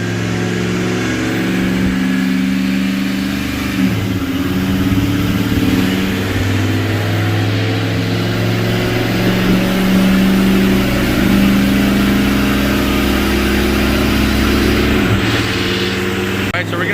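A turbocharged two-valve Ford F-150 running E85 on a dyno, its engine holding a loud, steady drone with low harmonic bands throughout, with brief shifts in pitch near the start and end.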